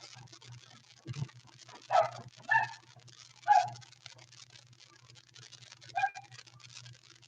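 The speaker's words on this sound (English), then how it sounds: "y'all hear my dog in the background?" A dog barks faintly in the background indoors, a handful of scattered, distant woofs spread over several seconds against quiet room noise.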